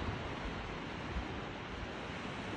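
Ocean waves at night form a continuous, even roar of surf, broad and moderately faint, with no distinct breaks and no voices.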